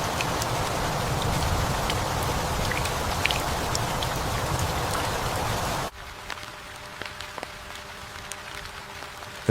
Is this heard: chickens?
no